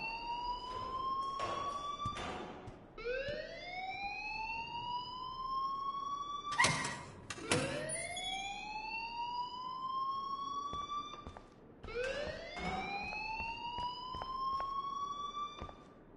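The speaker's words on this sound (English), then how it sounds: "please turn off that alarm since that's your job." Alarm blaring in the game Life is Strange, a loud rising electronic siren that sweeps upward repeatedly in long cycles, with a few sharp clanks between sweeps.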